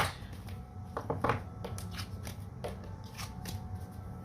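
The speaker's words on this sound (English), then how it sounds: "I'm just going to shuffle a little bit, not for cards, just to clear the deck out" A deck of cards being shuffled close up, with a quick riffle burst in the middle and lighter flicks and taps before and after.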